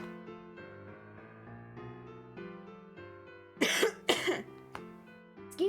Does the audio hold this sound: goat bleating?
no